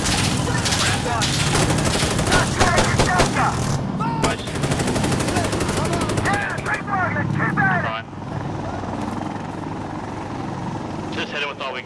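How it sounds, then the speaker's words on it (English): Sustained automatic gunfire rattles in the tactical shooter Insurgency: Sandstorm during a room assault, loud and close, layered with helicopter rotor noise and other battle sounds while players shout over it. "Opening fire."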